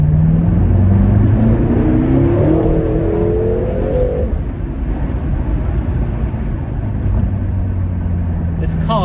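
A BMW M6 F13 accelerates hard in second gear, its engine note climbing steadily in pitch with a loud, close droning roar before settling into a steady cruise hum.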